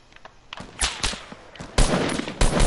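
Sniper gunfire in a video game squad match: sharp cracks in uneven bursts, a few isolated shots early, then louder clustered volleys near the end, over quiet background noise.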